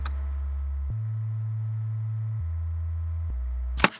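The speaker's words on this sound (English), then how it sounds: "I just went in here and put literally like just a regular sine wave." Plain, pure low synth tones step between a few pitches, held steadily for about four seconds, ending in a brief bright click.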